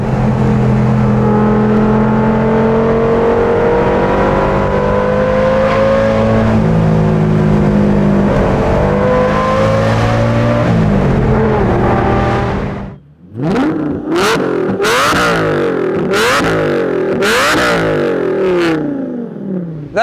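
An Audi fitted with a swapped Lamborghini V10 engine revs loud and close: a sustained, wavering engine tone gives way to a run of sharp, repeated throttle blips and revs.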